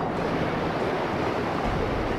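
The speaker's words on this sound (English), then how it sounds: "Oh boy, here comes the water." Water rushing in aboard a ship under attack in The Legend of Zelda: Skyward Sword, a loud, steady broadband roar of surging water that fills the whole stretch without a break.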